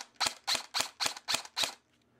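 Valken airsoft battle rifle with a high-torque motor and 11.1 battery, fired on semi-auto: six sharp, evenly spaced pops in quick succession, loud and close, followed by quiet.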